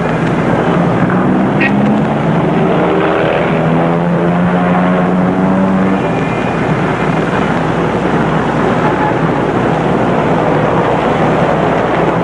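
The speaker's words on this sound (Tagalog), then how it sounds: "may helicopter pala rito" A helicopter flies nearby in a film scene, its loud continuous rotor and engine drone rising and warbling over steady wind-like noise, with no clear talking.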